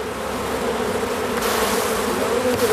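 Bees buzz steadily at a woven straw skep, a dense, continuous close-up hum with no voices.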